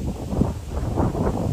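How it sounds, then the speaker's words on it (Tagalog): Strong wind gusting outdoors near a fast-spinning windmill in a flower garden, a loud continuous low roar and buffeting against the microphone with no clear voices. "ang grabe ang hangin, oh, ang bilis ng windmill"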